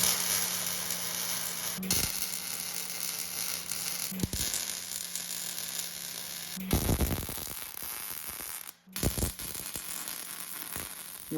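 MIG welding on a Chevrolet C10 truck bed being shortened with a Porterbuilt kit: a steady close crackling sizzle runs nearly throughout, broken by several brief pauses between weld bursts, with no talk.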